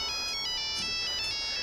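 An iPhone ringtone for an incoming call plays loud and continuous, a bright repeating electronic melody of bell-like tones filling the whole moment with no voices over it.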